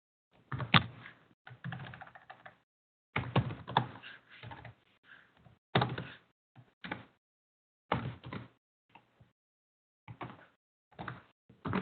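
Code is typed on a computer keyboard in short bursts of close, clicky keystrokes separated by brief pauses, with no talking.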